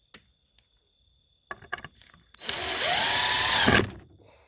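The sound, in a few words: power drill driving a screw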